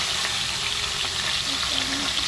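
Food cooking in hot mustard oil, a dense, steady hiss of sizzling close by, with faint stirring and a tonal hum beneath.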